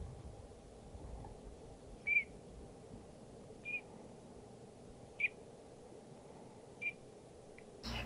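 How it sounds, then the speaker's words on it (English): A green-winged teal drake gives several short, high peeps one at a time at roughly even intervals over a quiet, faintly noisy background. "Drake green wings make a really simple sound to imitate on a whistle, and it's just a peep."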